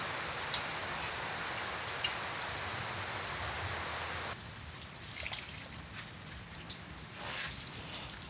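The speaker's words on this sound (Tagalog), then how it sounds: "Sarap po magkape habang umuulan na may bibingka." Steady rain falling on a mini farm, a dense continuous patter that drops to a softer, more scattered drizzle halfway through, with occasional louder drips and no talking.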